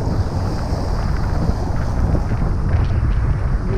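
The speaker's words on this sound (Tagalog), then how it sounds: "Kaya masyadong malakas yung hangin" Strong wind roars and buffets the microphone steadily at a fishing spot, a continuous low rumble with gusty rushing noise throughout, no voices present.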